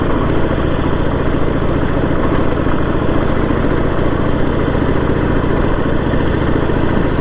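A motorcycle engine labors steadily while climbing a hill, a loud continuous drone with constant rumble and no clear gear changes, close to the microphone.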